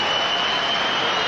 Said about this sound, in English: the applause from the crowd here at Sask Place for Saskatchewan and Bruce Korte